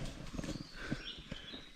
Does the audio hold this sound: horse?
yes